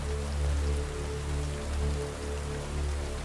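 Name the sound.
rain on truck cab roof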